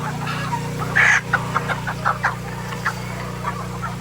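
Hungry chickens clucking at feeding time in a farmyard, several birds close by making busy overlapping clucks and short squawks over a steady low background hum.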